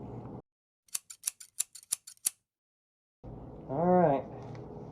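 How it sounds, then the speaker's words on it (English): Scissors snipping the top off a crystal-growing powder packet from a crystal lab kit, a quick series of about eight crisp, close clicks between stretches of quiet, with a short spoken voice before and after. "I have cut the top off of our crystal growing powder."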